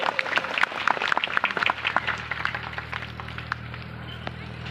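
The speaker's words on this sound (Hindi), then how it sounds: "ताई जी के स्वागत के लिए कम तालियां क्यों?" Scattered, uneven clapping from a crowd welcoming a guest at a Rani Durgavati birth-anniversary event, sharp individual claps that thin out over a low electrical hum.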